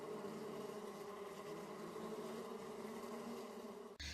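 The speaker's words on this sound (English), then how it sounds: "Bees buzzed through brilliant red poppies" Bees buzzing steadily and continuously, a dense droning hum that stays level and close before cutting off abruptly.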